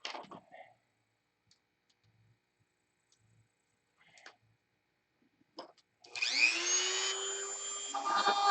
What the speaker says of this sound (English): I need to grind the burr off the end of that.